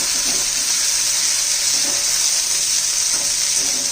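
Curry leaves and coriander fry in hot oil in a pan for a spicy drumstick curry with black masala, giving a steady, loud, continuous sizzle that fills the whole stretch.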